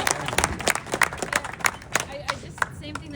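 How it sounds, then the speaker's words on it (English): Audience clapping at a VIP dinner event during the Laracon India 2025 finale, with sharp, irregular hand claps close by that form a lively burst of applause across the room. "Let's have a big round of applause for Sam."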